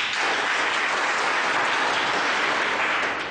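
The men's section of a teaching-seminar audience claps together, a dense, steady burst of applause with no talking over it.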